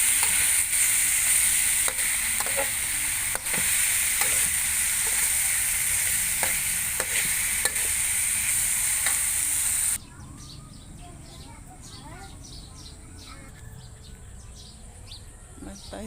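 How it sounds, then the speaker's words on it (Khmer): Fish and pounded spice paste stir-fry in hot oil in a pan, giving a loud, steady sizzle with sharp clicks of stirring, before the frying suddenly drops to a much quieter crackle while birds chirp faintly nearby. "ខ្ទះឲ្យក្តៅយើងដាក់ខ្លាញ់ចូល ឲ្យវាក្តៅ ខ្លាញ់ណាចាំយើងដាក់គ្រឿងដែលយើងបុកហើយនេះខ្ញុំយកមកដាក់ចូលហើយយើងកូរឲ្យស្ងួតគ្រឿងហើយខ្ញុំយើងដាក់ត្រីចូល"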